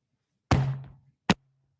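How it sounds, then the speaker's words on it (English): Two sharp knocks on a door, one solid hit followed by a lighter one about a second later, close and clear against near silence. "this was the knocking that we heard in the last 4 years"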